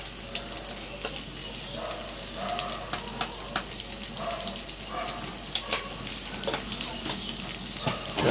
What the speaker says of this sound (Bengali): চালটাকে ভালো করে মিশিয়ে ভেজে নেব।